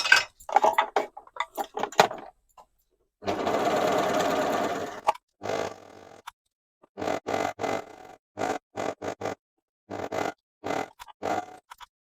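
A sewing machine, likely an overlocker, joins a sleeve to a top in bursts: a long steady run of stitching plus many short stop-start runs, close and loud, with no talking.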